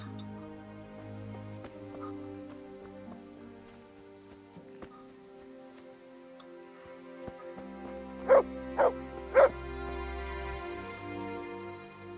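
Dog barking in the medieval role-playing game Kingdom Come: Deliverance, three sharp, loud barks close together near the end, over a steady in-game ambience.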